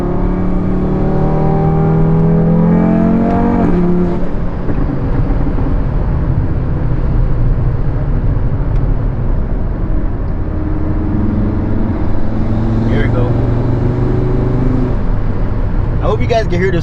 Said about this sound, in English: I don't know if you guys can hear the spool.